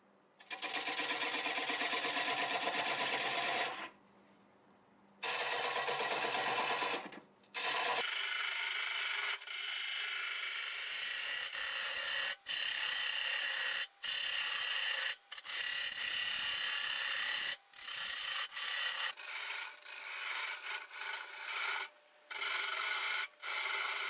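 Bowl gouge cutting a flame maple burl spinning on a lathe at about 550 RPM, a loud broadband scraping hiss in long bursts broken by short pauses, with no talking.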